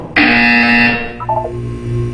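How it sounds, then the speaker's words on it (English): A loud, harsh electronic buzzer from the video game Portal 2 sounds once for about a second, followed by a softer stepped electronic tone and a low hum. "You will hear a buzzer."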